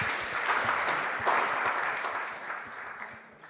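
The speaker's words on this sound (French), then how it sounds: "on peut vous applaudir" An audience applauds at a French health discussion on end of life, a steady dense clapping that stays strong throughout and tapers slightly toward the end, with no voices over it.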